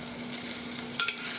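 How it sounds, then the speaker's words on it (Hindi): Ingredients for millet khichdi sautéing in a pressure cooker, a soft steady sizzle close up with a couple of brief stirring scrapes near the end. "अब ये हल्के से सौते हो गए हैं।"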